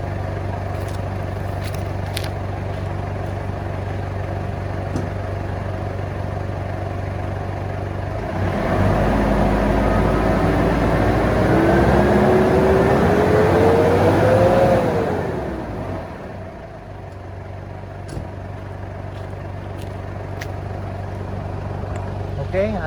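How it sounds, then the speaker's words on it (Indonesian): A 2008 Ford Everest TDCi with a 2.5 Duratorq VGT turbo diesel idles, then revs high for about six seconds with rising engine pitch and drops back to idle. It sits close and fairly loud, with no talk during the rev. "Oke, saya akan gas dengan RPM tinggi ya"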